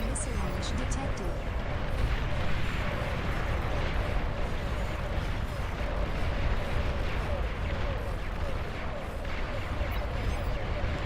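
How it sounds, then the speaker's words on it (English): Dense, continuous rumbling barrage of explosions and artillery-like blasts from a nuclear missile launch and detonation in the Beyond All Reason strategy game, loud and sustained throughout with no pauses. "Nuclear missile launch detected."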